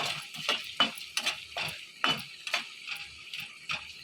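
A spoon repeatedly scrapes and knocks against a metal pan while stirring a poppy-seed cauliflower and potato curry with garlic paste, irregular clinks and scrapes roughly every half second over a faint sizzle.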